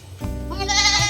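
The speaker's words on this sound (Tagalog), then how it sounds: "So bali apat na po yung aming alagang kambing." A pet goat lets out a single drawn-out bleat lasting about a second, close by and fairly loud, with no talking over it.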